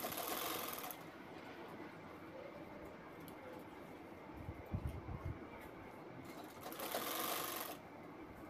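A sewing machine stitches along both sides of a handmade purse, its fast steady mechanical whir running for several seconds with brief changes in pace and a heavier thump midway.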